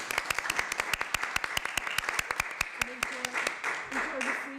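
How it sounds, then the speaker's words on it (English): Applause at a council meeting: a steady stream of sharp, rhythmic hand claps from a small group, fairly close, with a voice speaking over the final second as the clapping continues. "Give them a round of applause."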